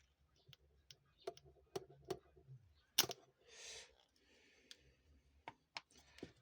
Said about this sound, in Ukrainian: Цей теж клацає відкривається і закривається чітко.